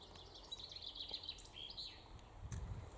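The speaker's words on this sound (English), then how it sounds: "Can you hear the birds?" Small birds chirp and trill in short, bright bursts on a Yorkshire Dales country walk beside a path near Hawes, faint and somewhat distant over a soft outdoor hush.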